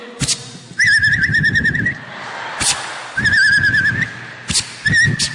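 A mimicry artist vocally imitates a firecracker, producing shrill warbling whistles broken by sharp bursty hisses and pops, repeated a few times, loud and close.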